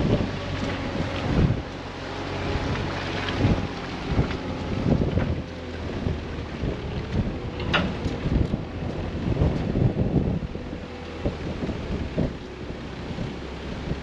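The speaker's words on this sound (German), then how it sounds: "heute ist mega Sturm" Strong gusting wind buffets a microphone fitted with a furry windscreen outdoors during a storm, a loud continuous low rumble with irregular thumps throughout, no talk.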